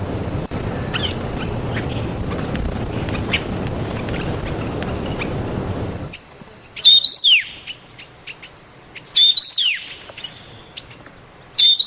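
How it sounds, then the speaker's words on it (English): Taiwan yuhina calls ring out in a forest setting, a few bright chirping phrases in repeated bursts with gaps between them, clear and fairly close, following a stretch of broad ambient noise. "That tweeny cho sound is the call of the Taiwan Yuhina."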